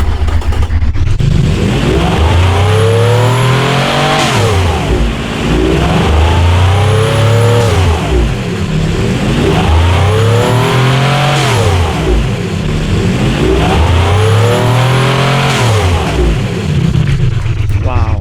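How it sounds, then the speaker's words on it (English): A loud video-game V16 engine from Automation revs up and down in repeated cycles, each climb ending in a sharp hiss of a blow-off valve, no talking. "the new blow-off valve sound is like the real engines"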